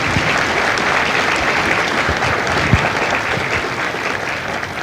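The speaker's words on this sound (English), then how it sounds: "Ladies and gentlemen, a round of applause for our recruiters and our combat instructors." A crowd at a Marine Corps Recruit Depot San Diego graduation ceremony applauds recruiters and combat instructors, a broad, steady wash of clapping, loud and continuous.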